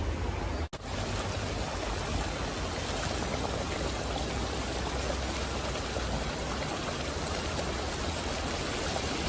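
Water pours steadily into a fish curry masala of turmeric and salt for a snakehead (murrel) fish curry, a continuous close rushing splash that runs unbroken after a brief click at the start.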